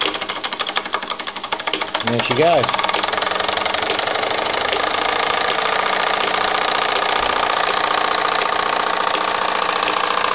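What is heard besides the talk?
Mammoth SE3 model steam engine running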